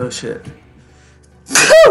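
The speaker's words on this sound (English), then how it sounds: "Jeez, that was a sneeze." A loud, close sneeze bursts out at the end after a man's brief speech, the break between the two almost quiet.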